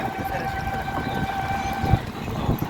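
Low rumble of the Paryatak Express train standing at Cox's Bazar railway station after arriving from Dhaka, with a faint sustained whistle-like tone and occasional clanks, steady and moderately distant.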